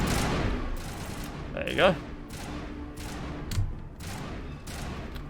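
Assault rifle fire in the Mass Effect video game, bursts of distant rapid shots scattered beneath ongoing game sounds while a person talks over them.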